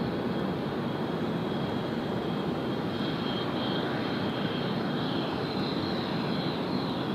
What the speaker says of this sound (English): look at this takeoff roll